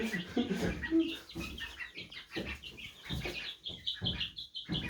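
Chickens cluck and squawk in short irregular bursts over a steady background murmur, with occasional higher bird chirps mixed in, at moderate distance and fairly quiet.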